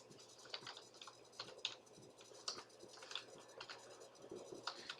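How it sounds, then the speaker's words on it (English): Typing on a computer keyboard, quiet irregular key clicks in short bursts close by. "I'm going to retype it here"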